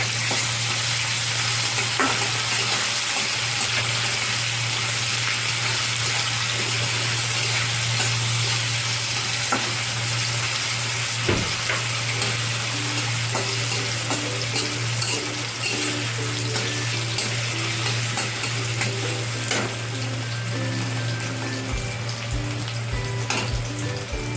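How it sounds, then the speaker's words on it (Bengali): Chopped onion fries and is stirred in a hot pan over whole spices for a Bengali taro and prawn curry: a steady, close sizzle runs throughout with occasional scrapes and knocks of the spoon, and no talk. "পেঁয়াজটাকে একটু ভালো করে নেড়ে চেড়ে ভেজে নেব।"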